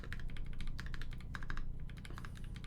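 Close, rapid typing on an Iron165 FE mechanical keyboard, a dense run of bright clacks in quick bursts with brief pauses, no speech.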